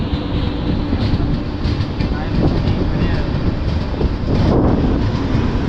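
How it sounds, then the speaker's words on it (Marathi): A passenger train on the Ratnagiri to Kankavli route pulling into Kankavli railway station, a loud, continuous rumble with rhythmic wheel clatter and some wind buffeting close to the microphone. "फायनली आपण पोचलो आहे कणकवली रेल्वे स्टेशनला"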